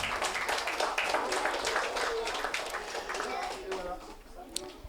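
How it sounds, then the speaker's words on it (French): An audience at a children's municipal council installation claps continuously, a dense patter of many hands that thins slightly toward the end, with some talk mixed in. "On applaudit Furkan"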